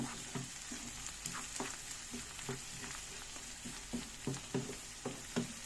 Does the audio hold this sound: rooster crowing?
no